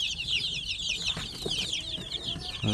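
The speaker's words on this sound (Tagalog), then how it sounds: "So yan po ang ating mga week old na mga sisiw." Week-old native chicks on a farm chirp in a dense, rapid chorus of high peeping calls, continuous and close, with faint low rustling beneath.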